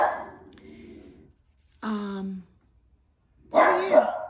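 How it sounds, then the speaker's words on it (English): A dog named Bobo, a female, gives short separate barks and yips, three bursts spaced over a few seconds, close by and moderately loud, with quiet gaps between. "Bobo hears everything. She barks."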